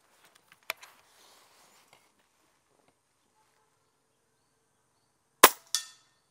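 Two sharp cracks of a Diana Outlaw Gen2 air rifle firing outdoors at a 50-metre range, loud and close together near the end after a mostly quiet stretch with a few faint ticks.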